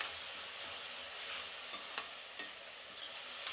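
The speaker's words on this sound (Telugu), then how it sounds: "టమాటా కొద్దిగా మగ్గినాక మనం ఇందాక రుబ్బుకున్నాం కదండి పచ్చిమిరపకాయలు," Ground green chillies go into a pan of softening tomatoes seasoned with turmeric and asafoetida, giving a steady close sizzle with a few sharp stirring scrapes and no voices.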